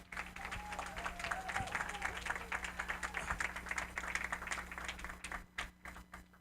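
Applause from an audience at a fatherhood talk, a soft, fairly distant patter of many hands clapping throughout, with a low steady hum underneath and the clapping thinning out at the end.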